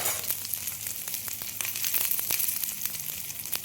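Boiled potatoes going into a hot frying pan for an egg curry give a steady close sizzle with scattered crackles and pops that run through the whole clip, with no voices.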